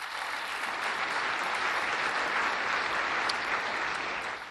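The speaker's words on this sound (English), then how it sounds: "Give yourselves a round of applause." A conference audience applauds steadily for the summit conveners and sponsors, a dense, even wash of clapping that holds loud throughout before easing slightly at the end.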